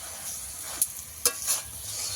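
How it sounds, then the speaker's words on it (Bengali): Chicken skin stir-fried in oil until the oil separates: a steady soft sizzle with a few sharp spatula scrapes against the pan, close by and with no voices. "এবারে আমি ভালো করে এটাকে কষিয়ে নেবো যতক্ষণ না তেলটা ছেড়ে যায়।"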